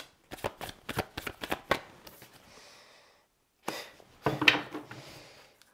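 Tarot cards are shuffled by hand in two bursts: a run of crisp riffling flicks, then a pause, then a second rustling shuffle, close and fairly loud with no talking.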